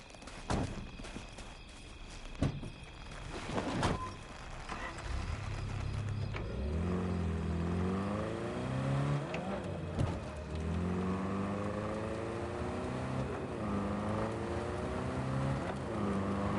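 A car in the video game Cyberpunk 2077 starts off after a few sharp thuds, its engine rising and settling through repeated revving sweeps as it drives, steady and fairly close for most of the stretch.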